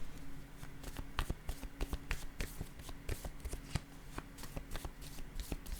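Cards being handled and laid down one after another on a table during a reading, a soft run of close flicks, slaps and shuffling taps with no speech.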